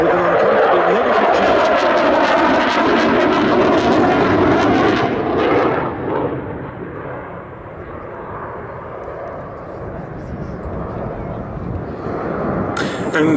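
Aerobatic aircraft on a topside pass at the Duxford Battle of Britain air show, a loud engine roar that holds then drops away after a few seconds to a quieter drone, with commentary heard under it.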